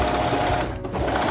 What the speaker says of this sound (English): we have 2 pieces like this that we are going to sew together on the machine